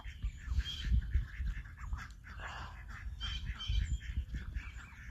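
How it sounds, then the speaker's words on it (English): Ducks and geese squabble and mate on a farm, with loud honking and quacking calls close by, overlapping and repeated throughout amid general flapping and scuffling commotion. "I swear, duck sex is very violent."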